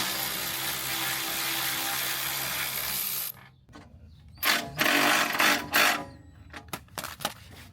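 A wrench works rusted mild-steel skid plate bolts under a Toyota Tacoma. A steady rushing noise gives way to a series of sharp, close bursts and clicks at uneven intervals.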